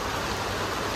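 Heavy monsoon rain pours down in a dense, steady hiss with no breaks, close and loud, and no voices.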